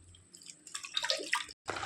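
Water is poured into masala being ground for a South Indian dish, a brief close trickle and splash with small gurgles lasting about a second, dropping out briefly before resuming.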